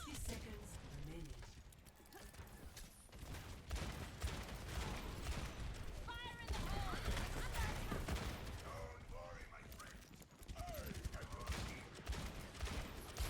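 Rapid bursts of gunfire in a tactical shooter video game, sharp repeated shots and clatter mixed with game effects, while a person talks over the action.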